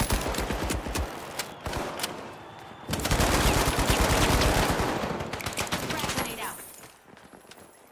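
Rapid bursts of gunfire in the video game The Finals crack out in clusters, then merge into a dense, sustained volley before tapering back to scattered shots.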